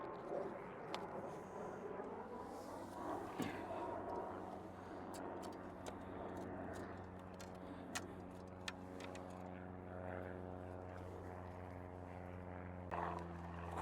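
A propeller airplane drones near an airport beside a picnic area, a faint, steady engine hum with sustained tones holding throughout, joined by scattered light ticks and clicks close by.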